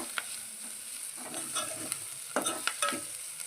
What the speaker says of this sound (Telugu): అది బాగా వేగాలి, ఇంకా మంచి ఎర్రగా అవుతాయి.